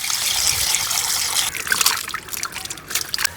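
Water trickles and splashes steadily nearby, like a tap running over jackfruit seeds being rinsed, with small drips and gurgles.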